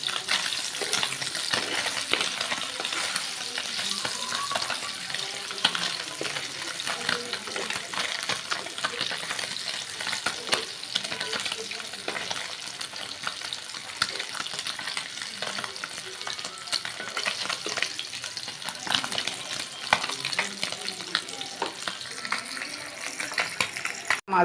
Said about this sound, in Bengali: মাছগুলো ভাজা হয়ে গেল